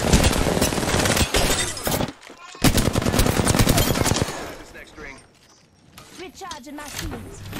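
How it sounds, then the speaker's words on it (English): Rapid automatic gunfire in the battle royale video game Apex Legends, loud, close and dense bursts with brief gaps and shattering effects, while players talk over the action. "Listen up, I'm getting shot at."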